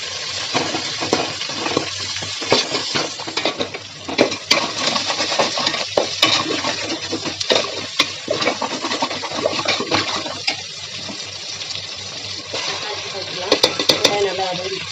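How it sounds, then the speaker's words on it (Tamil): Onions and dry fish sautéing in oil with garlic in a pan make a loud, continuous sizzle and crackle, close up, with frequent scraping stirs and utensil clinks throughout. "இப்போ வெங்காயத்தையும் போட்டு நல்லா வதக்கிடலாம்"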